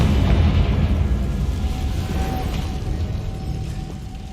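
A Confringo spell exploding in Hogwarts Legacy, a heavy, deep boom that rolls into a rumbling roar and slowly fades over four seconds, loud and bass-heavy.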